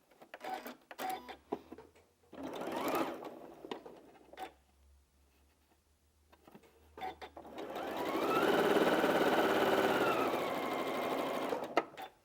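Sewing machine running a quarter-inch seam on quilt block pieces: a few short stuttering bursts and clicks, then a long steady whir that rises and holds before stopping.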